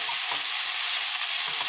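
Cabbage salad with salt, sugar, coconut and lemon juice is stirred and tossed in a pan, a steady broadband sizzle with soft scraping stir strokes throughout, close and fairly loud.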